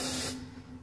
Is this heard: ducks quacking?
no